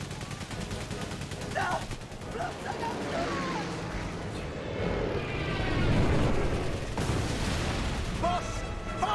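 Machine gun fire in the war video game Memories Retold, with continuous bursts and battle din running under shouted voices and a rumbling background.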